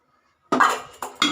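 A metal pan set down on a stove before cooking chicken curry gives a clanking knock followed by two quicker metallic taps, close and clear after a moment of near silence.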